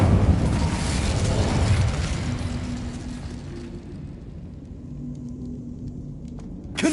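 The Incendio fire spell in Hogwarts Legacy erupts in a loud roaring burst that slowly fades into a lower rumbling rush, ending with a sharp click.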